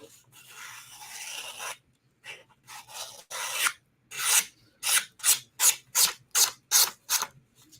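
A knife drawn repeatedly across a sharpener, starting with a longer continuous rub, then a series of about eight short, evenly spaced rasping strokes, close and fairly loud with no talk.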